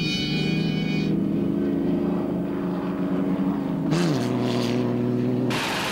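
A Tolman rally car in the 1989 Paris-Dakar Rally drives through desert sand dunes, its engine droning steadily at moderate volume with a short rise in revs partway through.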